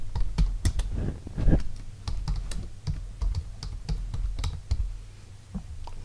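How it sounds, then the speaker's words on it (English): Steady typing on a computer keyboard, a continuous run of close, crisp key clicks over a low background hum. "type in the words that you want in the signature or watermark in the box"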